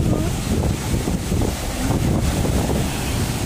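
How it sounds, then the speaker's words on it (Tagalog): A boat rocks on big waves off Boracay: continuous rushing water and strong wind buffeting the microphone, loud and close, with no voices. "Malaki kasi ng alon eh."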